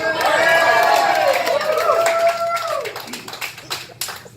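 An audience bursts into applause and cheers that swell loudly, then thin out into scattered claps, with a voice talking over the crowd at a stand-up comedy show.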